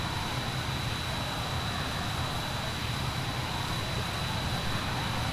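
Jet aircraft engine, an A-164 Thunderbolt in the video game Arma 3, at the start of a runway, giving a loud, steady, unbroken roar with a high whine and no speech over it.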